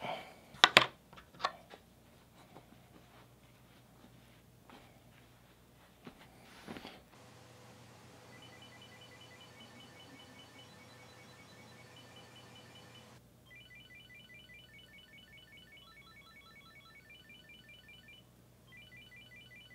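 Chipolo Classic Bluetooth tracker ringing from inside a laundry basket, a series of repeated high electronic beeping melodies in the second half, fairly faint after some handling clicks and thumps at the start.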